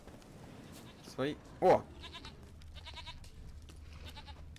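A goat in The Witcher 3 lets out two loud, close bleats in quick succession, with a voice speaking briefly and quiet game ambience continuing afterward.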